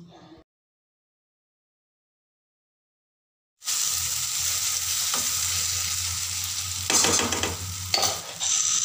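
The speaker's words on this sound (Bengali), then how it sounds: "ফোড়নটা ফ্রাই হয়ে গেছে, এরপর আমি মটরশুঁটির পেস্টটা দিয়ে দিচ্ছি।" After a brief sound and a stretch of silence, green pea paste hits a spice tempering of whole cumin and asafoetida in hot oil, bursting into a loud, steady sizzle with a few stirring scrapes near the end.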